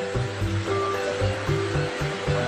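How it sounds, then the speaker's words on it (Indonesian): A river babbling past a quiet, old-style wooden village hidden in a Javanese forest, making a loud, steady rush of flowing water with a faint rhythmic pulsing mixed in. "Kita hanya terdengar suara gemericik air sungai ya teman-teman."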